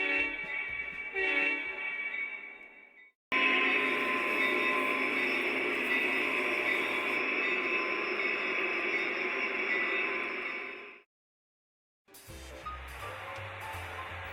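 Lionel model trains with modern diesel locomotives on a club layout, heard as a loud, sustained horn-like diesel drone with rail rumble, cutting out briefly and returning, separated by short silent breaks.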